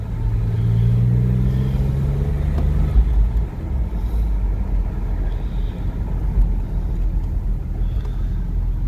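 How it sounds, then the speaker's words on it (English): Porsche 996 engine pulling through the gears while driving, a rising rev that drops at a shift, then a loud, steady throaty drone from inside the car. "Really nice running car."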